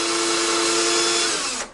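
A power drill whirs steadily at high speed while drilling into wood, loud and close, then winds down abruptly near the end.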